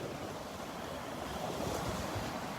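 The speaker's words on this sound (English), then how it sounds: "You can see the waves breaking on the sandbar." Steady surf from ocean waves breaking on a sandbar at Delnor-Wiggins beach, a continuous wash of noise with wind buffeting the microphone, no one speaking.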